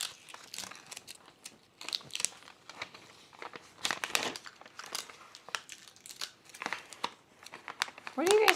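Paper crinkles and rustles in bursts while being handled during a jeans fitting-pattern adjustment, close and fairly loud, with irregular crumpling and soft tearing-like crackles throughout.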